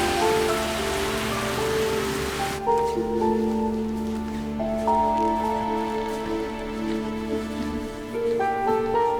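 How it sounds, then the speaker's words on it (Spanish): Rain falling steadily, a dense hiss of drops on surfaces that continues throughout under a sustained layer of soft background music with held tones. "Pero está lloviendo."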